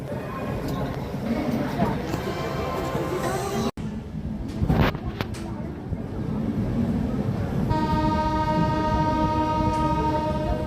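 The Magadh Express pulls out of Tundla Junction with a steady rumble of rolling wagons and a sustained horn tone near the end, while someone talks over the train noise.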